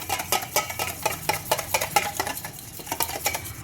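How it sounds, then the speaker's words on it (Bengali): Yogurt being whisked in a bowl for an egg tikka marinade, with a spoon clinking quickly and steadily against the bowl in a close, busy, rhythmic patter of strokes. "দইটা ভালো করে ফেটিয়ে নিই"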